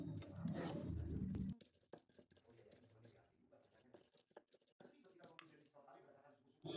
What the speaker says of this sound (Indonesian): lalu kita ulek lagi